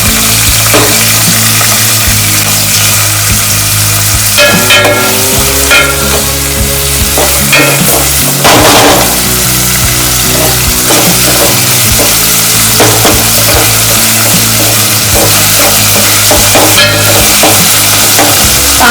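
Finely chopped onion frying in a pan until golden brown for a spicy crab curry: loud, dense, continuous sizzling close up, with scraping and clanking stirs throughout and no talking.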